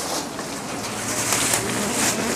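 Deshi Giribaz pigeons cooing in a loft, a soft continuous murmur of coos against a hissy, steady background.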